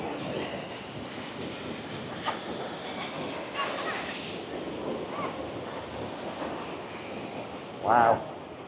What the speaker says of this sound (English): The ocean's coming right up now.